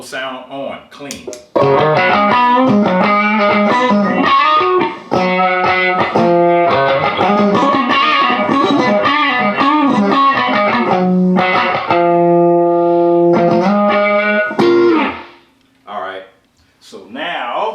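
An electric guitar runs through a JHS Notadumble overdrive pedal, playing chords and melodic runs with a warm, lightly driven tone, loud and close, broken by short pauses and ending with a brief gap and a few trailing notes.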